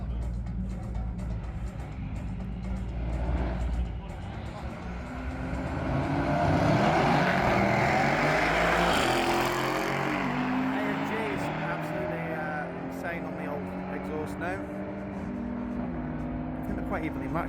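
Mercedes and Audi cars racing down the Santa Pod drag strip, a distant engine roar swelling and passing, then fading, with a hum of background noise.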